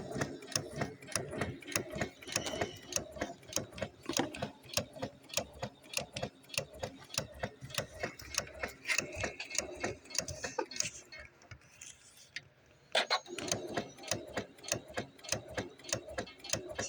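Janome sewing machine stitching with an AccuFeed dual feed foot, a fast steady mechanical clatter of needle strokes close by, briefly pausing before resuming.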